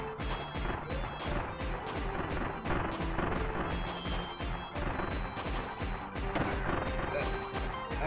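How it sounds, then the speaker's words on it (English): Cannon blasts and crashing impacts from the video game Kirby's Return to Dreamland, loud repeated bursts over continuous game music and effects. "Cannon!"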